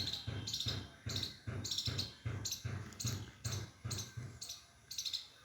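Insects chirp in regular repeating bursts with faint bird calls around a village home, a quiet, rhythmic pulsing that continues steadily throughout.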